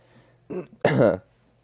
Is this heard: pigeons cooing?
no